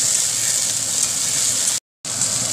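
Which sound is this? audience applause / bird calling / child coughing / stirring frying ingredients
stirring frying ingredients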